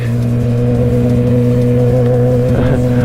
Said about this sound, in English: Dogs always get like crazy when they hear this bike.